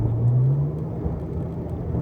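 Car on light throttle in E3 drive setting with an iDrive performance unit, a low steady hum and whir with a faint rising tone, no strong surge of revs.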